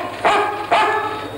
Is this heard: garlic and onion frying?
no